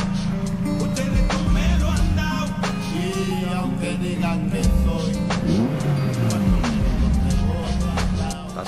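Cars roar and rev at the start of a street race, engines rising and shifting in pitch through loud, dense overlapping noise.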